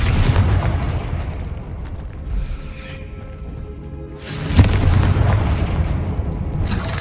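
Booming Confringo spell blasts in Hogwarts Legacy, two heavy explosions with rumbling tails over a loud game soundtrack, the second blast bursting out after a quieter stretch.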